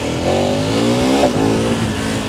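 A loud engine revs hard and climbs steadily in pitch as a KTM 1290 Adventure S motorcycle accelerates, with a brief shift midway, no voices.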